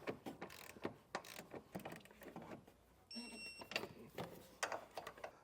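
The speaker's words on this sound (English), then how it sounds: "So torque wrench makes light work of having to guess how tight to go." A torque wrench ratchets trailer hitch bolts tight under a 2024 Kia Sportage, producing quick bursts of close clicking in uneven groups, with a brief high electronic tone partway through.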